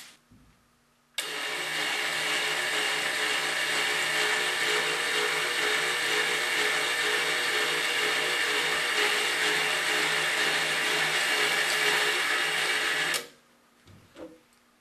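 A U45 label dispenser runs continuously for about twelve seconds, a steady mechanical whir with a sharp start and stop, followed by faint handling clicks.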